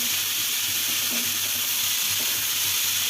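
Finely chopped amaranth leaves sizzle in hot tempering oil, a dense, steady hiss filling the whole stretch at close range with faint low knocks beneath, and no voices.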